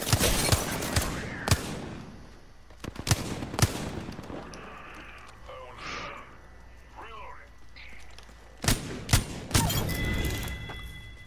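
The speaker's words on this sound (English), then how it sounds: "what are you opening fire on?" Video game gunfire: sharp bursts of shots and thumps at the start and again near the end, with quieter game sounds and faint voices in between.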